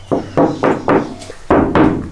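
Six dull, deadened knocks on a sound-insulated van panel, struck by hand at an uneven pace, each a short thud with no ringing or drumminess, loud and close with no talking.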